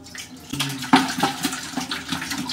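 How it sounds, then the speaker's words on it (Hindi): Water scooped from a bucket splashes and trickles over a steel plate being washed by hand after a meal at home in Bangalore, with a few close sloshes and pours in steady succession. "थोड़ा थोड़ा पानी लेके थाली धोना पड़ता है"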